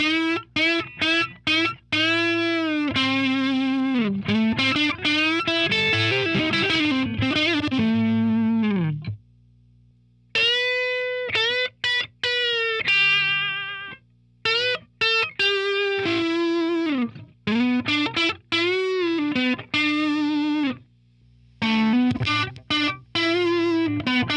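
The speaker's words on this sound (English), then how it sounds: "I can go off of my neck pickup here and I'll crank up the knob here and get a little bit of fuzz up." Electric guitar on the neck pickup with fuzz, played through a Mojotone British 45 Plexi-style amp kit, loud and saturated, with chordal phrases and sustained notes broken by a few short pauses; no voices.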